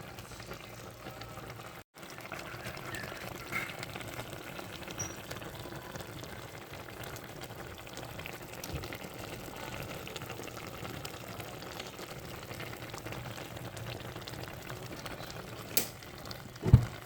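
Paksiw na bangus, milkfish with pork in vinegar, simmering in a pot, giving a steady low bubbling hiss that runs unbroken and fairly quiet, with a brief gap near the start and a small clink toward the end.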